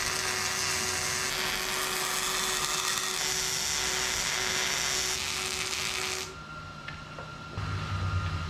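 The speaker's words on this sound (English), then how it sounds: "Now it's just time to weld it up." Welding air bag mounts in a fabrication shop: a steady, loud crackling buzz holds for about six seconds, then cuts off, leaving a quieter hum with a faint tone, and the noise returns briefly near the end.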